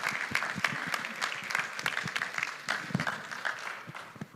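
Church congregation applauding for Pastor Marrero, a moderate round of clapping with distinct individual claps standing out, a little distant and uneven, fading slightly toward the end.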